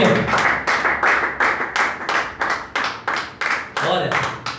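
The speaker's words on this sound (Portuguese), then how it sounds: "Bem forte esse aplauso para o Senhor." A church congregation claps in a steady rhythm, roughly a dozen evenly spaced loud claps in a row that carry on without a pause.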